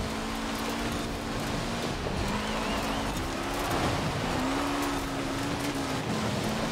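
A race car in Forza Horizon 4 drives hard with a steady, loud engine drone that shifts pitch as gears change, with some tire noise over continuous road roar.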